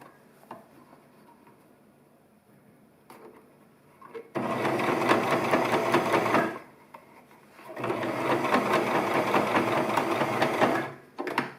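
Two sustained runs of a sewing machine's rapid mechanical stitching while back stitching a chair pouch, separated by a short pause with light handling clicks and a quiet stretch at the start.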